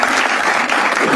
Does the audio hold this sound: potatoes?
no